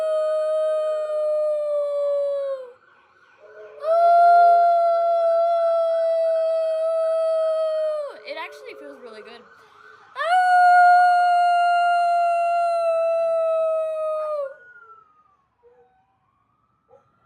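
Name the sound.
person imitating a dog howl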